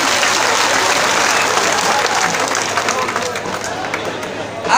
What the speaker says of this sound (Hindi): तो इसके लिए एक बार जोर से ताली मारिए।